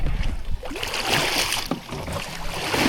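Water swishes and splashes loudly and close by in a continuous wash, with a few sharper strokes standing out, as a paddle works the surface.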